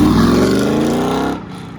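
A Lamborghini Murcielago, noted as a manual, and a Corvette C4 drive past at a Houston car meet, with a loud close engine pull that drops away abruptly after about a second.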